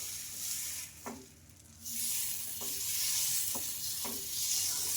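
Dosa batter of semiya and moong dal sizzling on a hot pan, a loud continuous hiss broken by a short quieter gap and a few soft scraping taps, no voices.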